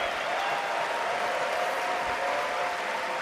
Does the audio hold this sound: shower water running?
no